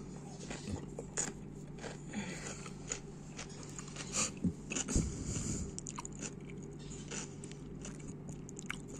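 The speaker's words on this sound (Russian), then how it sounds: "Я кушаю, завтракаю." Someone at breakfast eats millet porridge, steak and a vegetable salad, making soft, close chewing and crunching sounds that repeat irregularly against a quiet background.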